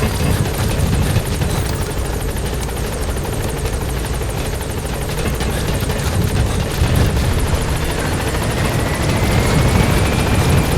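Support helicopter arriving in Metal Gear Solid V: The Phantom Pain, a loud, close, continuous rotor thrum and engine whine that holds steady throughout.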